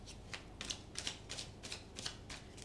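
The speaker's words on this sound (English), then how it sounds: "I will shuffle the cards thrice" A deck of tarot cards is shuffled close by, a quick run of about seven crisp, evenly spaced riffling bursts with no voices over them.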